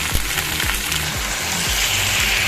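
Vegetables sizzle steadily in a pan with salt and turmeric, a constant close hiss broken by regular soft knocks of stirring.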